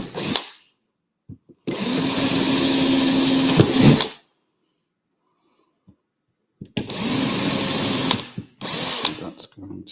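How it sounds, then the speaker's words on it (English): A power drill bores holes into a model railway baseboard near a cross member. It makes two long, steady whirring bursts, then shorter ones separated by silence, all loud and close. "So I'm going to drill these holes now."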